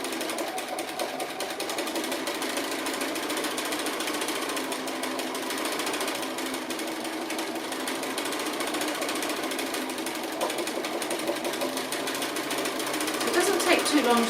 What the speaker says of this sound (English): you can use free motion stitching for all kinds of decorative stitching, not just thimble lines